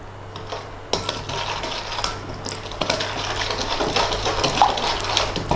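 Spoon scraping and mixing an oily Madras spice paste in a pan, with soft irregular clinks and stirring scrapes that grow slightly busier toward the end, close up and without voices.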